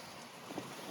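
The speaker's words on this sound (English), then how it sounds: "I apologize for this extremely windy day" Steady wind roaring on a very windy, warm day outdoors, a constant broadband rush of gusts buffeting the microphone with no voices.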